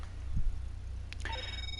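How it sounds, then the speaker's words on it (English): A phone rings in GTA Online, a brief electronic ringtone with a few clear tonal beeps over a low steady hum, faint and alone. "Stop with the stupid phone calls"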